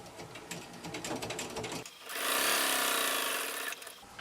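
A sewing machine fitted with a walking foot stitches a seam on a maxi dress. A quick, rhythmic run of needle clatter is followed by a louder, smoother whirring burst that then stops.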